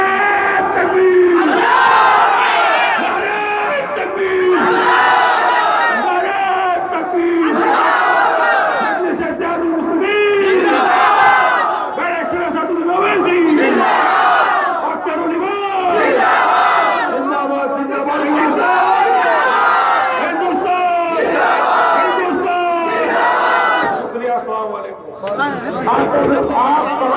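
A large crowd at a political rally chants takbir slogans in loud, rhythmic call-and-response waves that repeat steadily, filling the space with massed voices.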